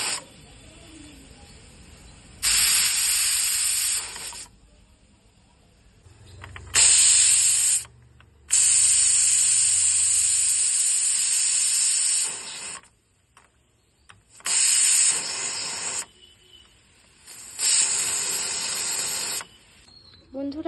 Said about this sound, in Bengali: 8টে সিটি পড়ার পর আমি ডালটি নামিয়ে নেব